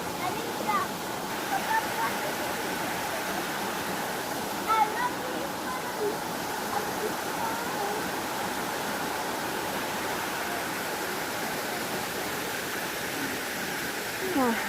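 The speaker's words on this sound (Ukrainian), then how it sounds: "прохолода біля водички. І ще там далі є каскади" Water runs over small cascades outdoors in Italy, a steady broadband rushing that stays constant at moderate level with faint sounds rising above it now and then.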